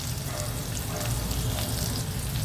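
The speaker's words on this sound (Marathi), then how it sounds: "जिरं तेलावर 2 मिनिटं परतून घेऊया." Cumin seeds sautéing in hot oil for pat bhaji give a steady, close sizzle with fine crackling, continuous and even throughout, with no voices.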